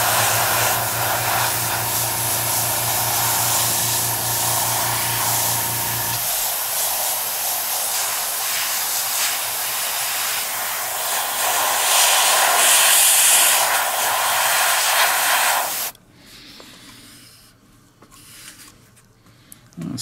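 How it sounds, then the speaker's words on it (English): An airbrush sprays paint onto a scale model Sturmgeschütz III Ausf B tank, a loud, continuous hiss with a low hum at first, then cutting off abruptly near the end. "whenever you stop spraying, don't start right on the model"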